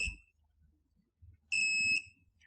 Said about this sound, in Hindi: बजर ऑन है।